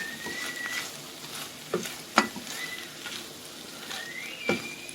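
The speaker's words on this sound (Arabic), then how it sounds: "هنزل كده بعصير الليمون وهديلها تقليبة" Beef liver sizzles steadily in a frying pan as lemon juice goes in and it is stirred, with a few sharp scrapes and clinks of the utensil against the pan over a continuous hiss.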